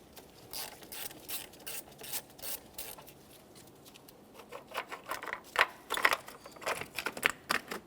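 A ratchet clicks rapidly as it loosens the 10mm battery mounting nut on a 2014-2018 Toyota Corolla. The clicking runs in quick rhythmic runs, close and moderately quiet, and gets sharper toward the end.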